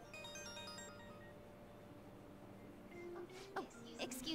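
In Persona 5 Royal, a phone ringtone plays as a short melodic jingle, then fades into quiet room tone with a few soft clicks near the end.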